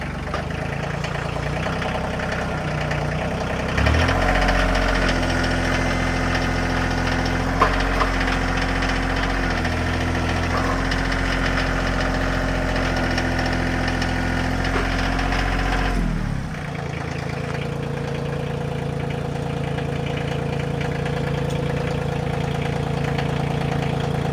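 A Kioti CK2620 compact diesel tractor engine idles steadily nearby, its low rumble shifting pitch partway through before settling into a quieter, even run.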